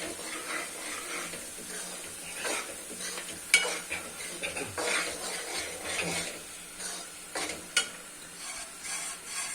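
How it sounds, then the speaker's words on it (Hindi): Semolina roasting in ghee over a low flame is stirred steadily, a soft scraping and gentle sizzle with a few sharp clinks of the spoon against the pan; no speech. "सूजी हमेशा लो फ्लेम पे भुनी जाती है।"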